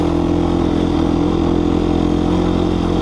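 A dirt-style motorcycle engine running steadily while being ridden, a loud, continuous rumbling drone close to the microphone with no talking.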